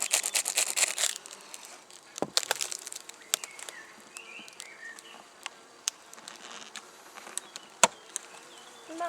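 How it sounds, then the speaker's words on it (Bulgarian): Honeybees buzz around the entrance of a top bar hive, a steady close insect hum with brief rustles and clicks, busiest at the start and then settling to a lighter drone. "Има още много пчели на летате."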